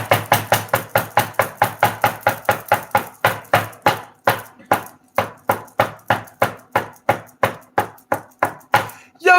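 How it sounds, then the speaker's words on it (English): A fist raps on a door in rapid, steady bursts, dozens of close, loud knocks with brief pauses between runs and no voices. "Man, you hear me knocking."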